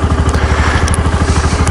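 An old BMW 650 GS motorcycle engine runs while warming up after a cold start, a loud, close, rhythmic thumping idle with mechanical clatter and crackle, no voices over it.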